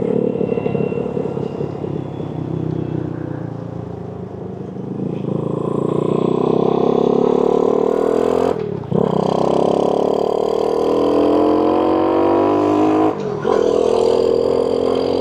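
A Boom Vader 125, a Honda Grom clone motorcycle, cruising at about 43 mph: a loud, steady engine drone rising in pitch, broken by two brief dips where it shifts gears, with wind rush throughout.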